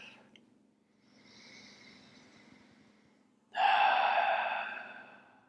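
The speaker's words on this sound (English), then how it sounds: "Let's take about one more round of breath." Slow, deep breathing during a hatha yoga session: a faint, long inhale, then a louder, sustained exhale through the nose or mouth fading out, close and alone.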